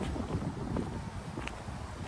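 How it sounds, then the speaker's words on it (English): Steady, heavy buffeting of breeze against the microphone outdoors at Cedar Bluff Cemetery in Rockford, Illinois, a continuous low rumble with no talking. "it is a little breezy out today, so hopefully you can hear this okay."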